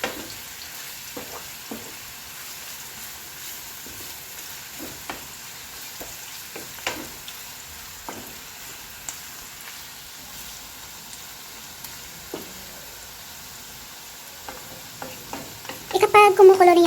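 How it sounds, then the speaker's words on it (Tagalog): Onions frying in hot oil while a utensil stirs them, with soft sizzling throughout, scattered scrapes and clicks against the pan, and a louder burst of crackling near the end. "I just add the oil and the onion together, and then I let it boil and keep stirring until it become brown"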